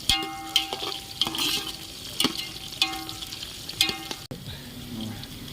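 A spoon stirs chicken curry with curry leaves in a pan, giving repeated scraping strokes over a steady soft sizzle, close and moderately loud, with no talking.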